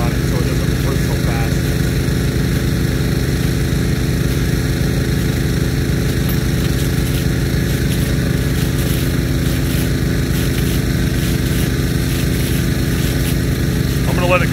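A Nelson P150 3-inch fast-reverse big gun sprinkler with a .87-inch ring nozzle runs loud and steady, a continuous rushing, pulsing water roar with a regular rapid rhythm, and a voice talks over it.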